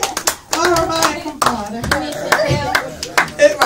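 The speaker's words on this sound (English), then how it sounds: "Clap it up for us" An audience at a kids' monologue segment of a customer appreciation and award show claps in a dense burst of hand claps and a few sharp single claps, with people talking over the applause.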